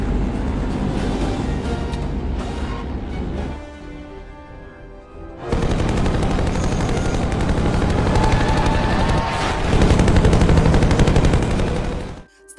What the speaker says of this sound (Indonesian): Dengan membabi buta, mereka langsung menghujani para tentara itu dengan peluru.